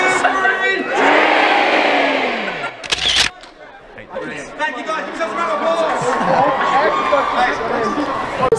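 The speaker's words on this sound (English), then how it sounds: "On the count of three, we're going to shout dream, okay?" A large crowd at TwitchCon yells a single word together in one loud burst. Scattered cheering, chatter and voices follow close by.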